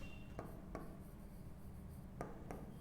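Someone writes a sentence on a board with short, quiet scratching strokes. A few separate taps and scrapes come in two clusters against a low background hum, and no voices are heard.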